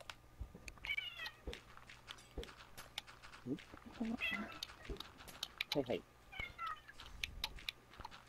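A pet cat meows a few times in a home during a Minecraft multiplayer session, the mews faint and mixed under frequent nearby chatter and game sounds.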